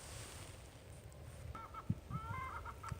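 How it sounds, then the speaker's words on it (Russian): Chickens clucking and calling from a nearby coop in a snowy setting, a few short bursts of hen calls in the second half over a steady outdoor hiss of wind and ambience. "Курочки кричат, чтобы их выпустила."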